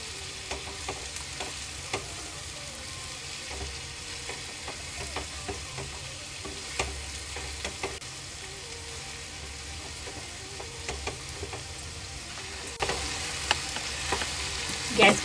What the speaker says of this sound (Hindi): ऑनियन को इस तरीके से चलाते हुए हल्का सा भूनेंगे जिससे ये थोड़ी सी सॉफ्ट हो जाए।